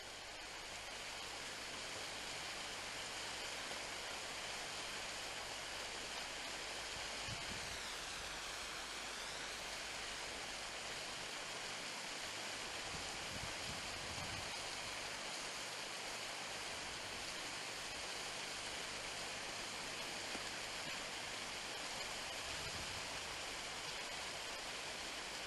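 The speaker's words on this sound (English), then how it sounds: "Once again we got the sound of beautiful fresh running water." Continuous broadband rush of fresh flowing water, like a stream or small waterfall, steady and unbroken throughout, with no voices, beside the Caledonian Railway cycle route.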